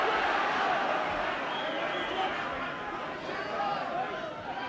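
A large Irish crowd roars at a boxing match between Eubank and Collins, a sustained broad wash of cheering and shouting that swells early and stays loud throughout, with no clear individual voices.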